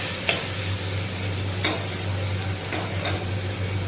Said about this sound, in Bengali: গ্যাসটা হালকা করে পনিরটা একটু ভেজে দেবো।